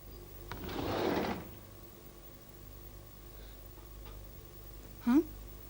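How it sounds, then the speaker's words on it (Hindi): A door is pushed shut in an indoor scene of a Hindi TV drama, one muffled sliding thud, followed by quiet room tone and a couple of faint, brief clicks. "आप दरवाजा काहे को बंद करती है?"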